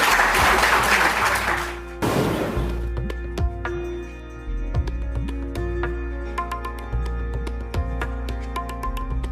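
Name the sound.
audience applause welcoming poet Jigna Mehta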